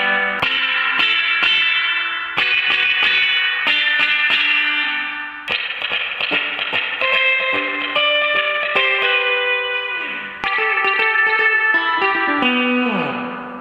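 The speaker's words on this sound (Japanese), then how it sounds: "右に回すとリバーブの音量が上がって、スプリングリバーブらしい華やかな音になります。" Electric guitar played through a BOSS FRV-1 Fender spring reverb pedal, bright plucked chords and single notes ringing out with a splashy, drippy spring-reverb tail and occasional pitch dives, with no one talking.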